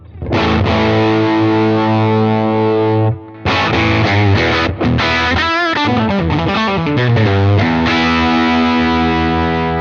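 Distorted electric guitar through a Fender amp modeler set for a blues tone, loud sustained chords and bending blues lead lines played alone without talk.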